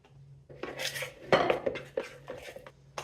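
A spoon scraping and clinking inside a bowl while stirring an icing sugar mixture, a quick irregular run of close metallic taps and scrapes, one sharper knock in the middle.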